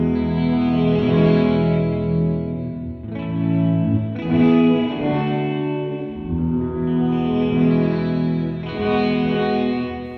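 An electric guitar runs through an Alexander Space Force reverb pedal set to bloom mode. Several sustained chords swell into a wide, washy, distorted reverb tail, separated by short dips.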